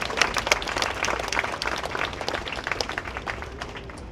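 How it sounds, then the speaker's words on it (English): Audience applause at an outdoor Fleet Week concert in Bryant Park, New York City, honoring the Navy's 250th anniversary; a broad crowd claps steadily for about four seconds, dense and fairly loud, without speech over it. "let's give that a round of applause."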